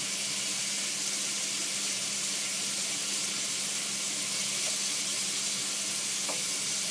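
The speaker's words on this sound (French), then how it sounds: "Ça cuit plutôt vite en fait le veau." Veal strips sizzling in a hot wok, a steady dense hiss of frying that runs unbroken from start to finish, with a couple of faint clinks near the end and no talking.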